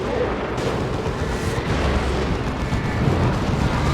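Explosion of a Predator tank in the Dawn of War 2 real-time strategy game: a dense, loud, continuous roar of booms and artillery-like blasts, with no pause across the whole stretch.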